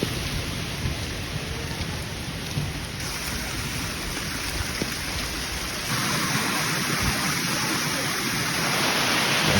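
Heavy monsoon-style rain falls steadily on the climb up Sri Pada, a dense, loud hiss with no voices, swelling slightly louder toward the end.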